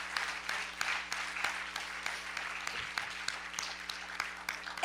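A church congregation claps in a rhythmic unison beat, moderately quiet with sharp regular hits over a low hum and a faint background murmur.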